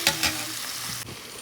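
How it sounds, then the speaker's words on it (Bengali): Masala spices stir-fry in hot oil for Kashmiri paneer, a close, continuous sizzle broken by two sharp scraping strokes of a spatula near the start. "এই যে কাশ্মীরি পনির রান্না করব বলে মশলাটা কষাচ্ছি।"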